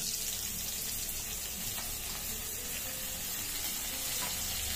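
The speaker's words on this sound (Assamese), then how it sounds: "দি গোটেইখিনি পিঁয়াজে ভালদৰে ভাজি লৈছোঁ।" Onions browning in a pan while making patal korma, a dense, even hiss of frying that fills the whole stretch with no clear breaks and no talking.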